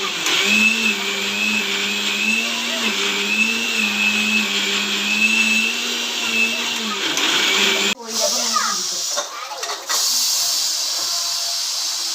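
A mixer grinder blending coconut paste whirs steadily with a high, even hum, then cuts out near the end as voices talk over it.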